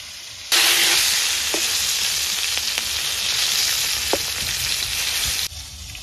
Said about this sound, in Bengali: এ দেখো বন্ধুরা আমার লাল লাল করে পটলগুলো ভেজে নিয়েছি।